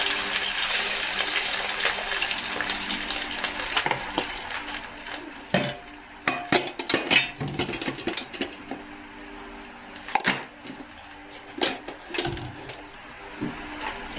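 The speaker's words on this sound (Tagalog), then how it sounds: "Lagyan ko na ng tubig, guys." Hot water from a thermos splashes steadily into a cooking pot of fish head soup for a few seconds, followed by scattered clinks and knocks of utensils against cookware.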